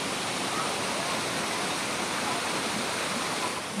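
Water from the thirteen-spout natural hot spring pours in a constant dense rushing hiss, close and unbroken, at the Guci hot spring baths in Tegal.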